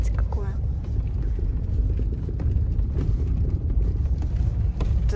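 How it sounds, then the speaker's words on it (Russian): Several cars rumble past on a rural road through open village fields, a steady low drone with a brief tonal whine early on, while people talk over it. "Это за водой едут обратно. Три машины уже оттуда"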